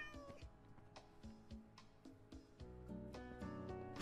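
Cat in the Rats SMP game meowing repeatedly, a run of short, close, fairly quiet meows and yowls with a few longer drawn-out cries toward the end.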